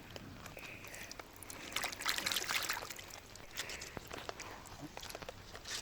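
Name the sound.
water running while washing harvested Chinese cabbage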